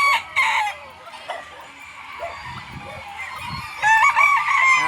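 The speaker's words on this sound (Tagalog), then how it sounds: "Nakakabigla manukan mo, Boss Ruel, iba ka talaga." Chickens cluck close by inside a crowded coop, their calls scattered and overlapping. Loud crowing from a rooster comes at the start and again near the end.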